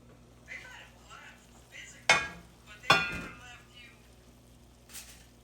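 Green beans cook in a pan and are stirred, giving two loud, close scraping strokes of a utensil against the pan over a soft, steady background.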